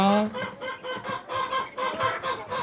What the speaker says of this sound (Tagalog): Yun yung chicks natin na Rhode Island.